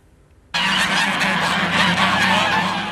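Geese on a farm in Kars, Turkey, fed on barley, break into a loud, dense chorus of honking that starts abruptly and continues close by.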